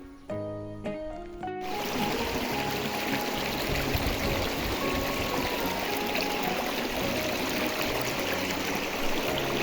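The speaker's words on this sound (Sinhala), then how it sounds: "වහින කාලෙට ජලය එකතු කරගන්න තමයි ඔන්න දොරවල් වලින් වතුර ගලන්නේ." Water runs steadily down a small forest stream in the rainy season, a continuous close, full rushing and trickling that starts abruptly after a brief tonal opening and then carries on without pause.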